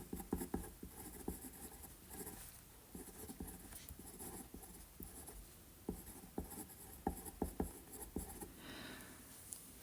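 Pen or pencil scratches on paper in short bursts of strokes and pauses, close and fairly quiet, with light rustling between the handwriting passages.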